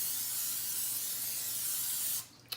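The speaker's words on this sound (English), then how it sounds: "I am spraying a muffin tin down." Cooking spray hissing steadily onto a muffin tin for about two seconds, close and fairly soft, then stopping with a brief final puff.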